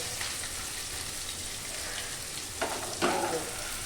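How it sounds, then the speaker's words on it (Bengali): Chopped onion fries in a pan over lowered gas, making a steady close sizzle. Two short bursts of louder crackling and stirring come near the end, with no speech. "পেঁয়াজ কুচি একটু ভাজবো, পেঁয়াজটা অল্প ভাজবো"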